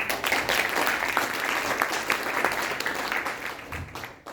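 An audience applauds after a Hindi stage play, Andher Nagri Chaupat Raja, with a dense, steady wash of clapping from a crowd that holds for several seconds before tapering off at the end.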